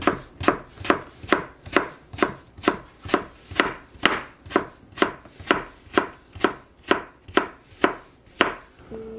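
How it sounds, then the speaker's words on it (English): A knife slices an apple thinly, about seventeen crisp, evenly spaced cuts landing in a steady rhythm, close and fairly loud, with no voices. "Then I'm going to slice them nice and thin."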